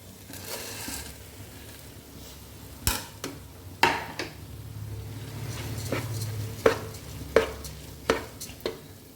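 Soaked basmati rice is sautéed in a pan for Kannur-style prawn rice, with low sizzling under a scatter of sharp scraping and clinking stirs at irregular intervals.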